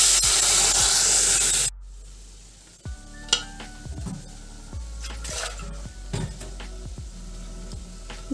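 Lentils hit hot mustard-oil tempering of dried red chillies, bay leaf and radhuni for a Bengali dal, giving a loud close sizzle that stops abruptly, followed by softer stirring and utensil clinks.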